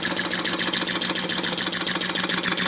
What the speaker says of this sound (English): I got an engine here. And it's not quitting. It's been going for 5 minutes.